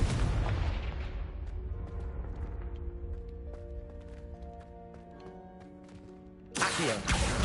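A Confringo blasting spell in Hogwarts Legacy bursts with a loud, deep boom that rumbles and fades over several seconds under ringing tones, then a second blast hits near the end.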